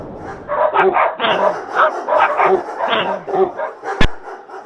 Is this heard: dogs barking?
yes